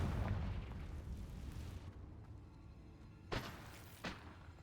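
A Confringo fire spell blast in the video game Hogwarts Legacy: a rumbling low explosion at first, then two sharper cracking bursts heard quietly in the distance.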